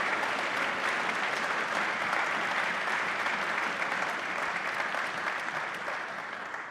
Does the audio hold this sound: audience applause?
yes